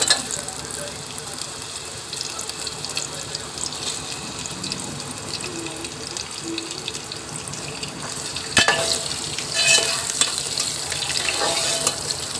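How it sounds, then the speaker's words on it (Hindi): Nigella seeds cook in a pan as cut raw mango is added for a sweet-sour mango murabba, making a continuous soft sizzle with wet splashes and clatter that grow louder toward the end, close up and without speech. "कलौंजी हमारी पकनी शुरू हो गई है। अब हम इसमें ऐड करेंगे कैरी जो हमने काटी थी।"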